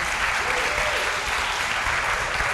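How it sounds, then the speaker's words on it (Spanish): A conference audience gives strong applause during an award presentation, a dense, even wash of clapping filling the room without a break. "Y vamos a darle un fuerte aplauso."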